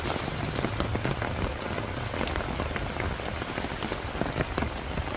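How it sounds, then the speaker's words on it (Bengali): Heavy rain pours steadily on an outdoor field, a dense, continuous hiss of drops hitting the ground and foliage close by, with no voices. "কিছুক্ষণ হারভেস্ট করার পর থেকেই প্রচণ্ড বৃষ্টি হচ্ছিল"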